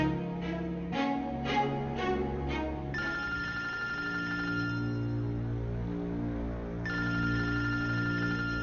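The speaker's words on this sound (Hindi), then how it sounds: "हिना का फोन। तो अटेंड करो ना अमर।" A melodic electronic ringtone plays repeatedly, a short tinkling phrase followed by a sustained tone, fairly close and alone.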